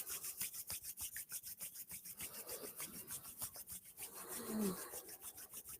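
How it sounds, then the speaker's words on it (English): Hands rubbing together during a guided breathing and qi healing exercise, a soft steady friction swish repeating in quick strokes, close and quiet, with no talk. "rubbing your hands together"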